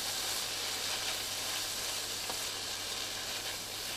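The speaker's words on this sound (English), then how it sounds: "Now I can add the prawns, and I'll just continue to cook that" Prawns fry in a very hot NutriWok, giving a loud, constant hiss and crackle that holds steady throughout with one faint click, with no voices.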